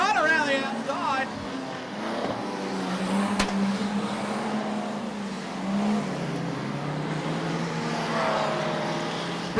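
Modified production race cars roar around Maryborough Speedway, engines droning and revving at a moderate distance, with a commentator talking over the steady motor noise.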